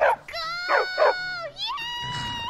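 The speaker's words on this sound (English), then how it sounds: "Need a trained war dog?" A trained war dog in the video game Skyrim gives a few sharp barks and whimpering yelps up close, followed by a longer howl-like whine.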